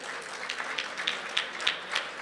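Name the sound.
audience applause at gala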